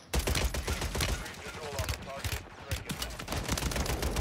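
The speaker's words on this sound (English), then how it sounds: "this thing actually shoots slow, but it hits hard" Two-shot nail gun firing in Warzone 3, a run of loud, sharp shots close by in quick succession with brief pauses, layered over game ambience and some voice chatter.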